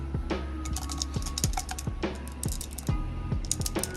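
Mechanical keyboard switch spring shaken inside a small container with lube, making rapid rattling clicks and tinny ticks in irregular bursts, close and fairly quiet.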